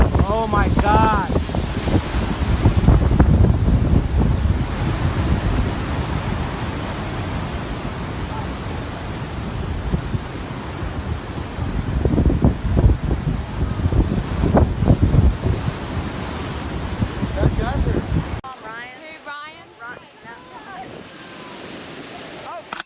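Massive ocean waves surge and crash at Cabo under heavy wind rumble, with loud swells rising and falling for most of the stretch before voices take over near the end.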